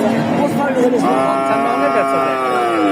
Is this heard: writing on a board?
no